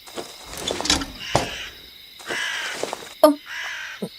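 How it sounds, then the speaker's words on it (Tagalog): A crow caws harshly several times in irregular bursts, fairly close, with quiet gaps between calls. "Yun yung huni ng ibon na nandito kanina."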